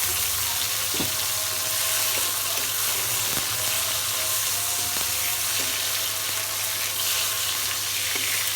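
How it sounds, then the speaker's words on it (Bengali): Onion, garlic and chopped tomato fry in oil in a kadai, producing a continuous dense sizzle with a few sharp clinks and scrapes of stirring spaced through it, close and fairly loud, with a low steady hum beneath. "প্রথমে দিয়ে দেবো পেঁয়াজ এবার সামান্য একটু রসুন দিচ্ছি এখানে একটা টমেটো কেটে দিয়েছি"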